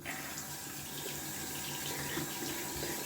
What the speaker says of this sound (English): So I'm gonna just pour out that soaking water.